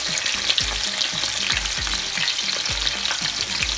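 Panko-breaded shrimp frying in hot oil, a steady dense sizzle with crackling bubbles throughout, close and continuous, with a few low clunks underneath.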